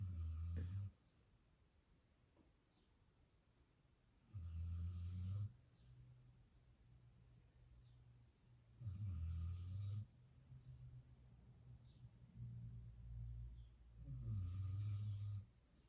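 A pet dog named Sprocket snores loudly nearby in a slow, steady rhythm, four deep rumbling snores spaced a few seconds apart with quieter breathing between them in an otherwise still room.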